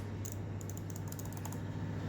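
Quiet, sharp button clicks from an ASUS TUF Gaming M3 gaming mouse come in a quick cluster of about a dozen presses, heard close over a soft steady hum, then stop.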